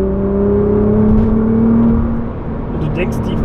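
Nissan GT-R Nismo engine and exhaust while driving, a loud droning tone that swells and eases back, heard from inside the car with people talking over it.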